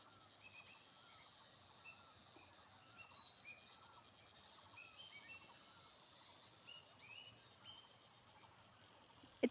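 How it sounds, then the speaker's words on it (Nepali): Various birds call faintly in a green jungle in Jajarkot, Nepal, with scattered chirps and short calls over a steady breezy background hush. "विभिन्न चराचुरुङ्गीहरूको आवाज यसरी"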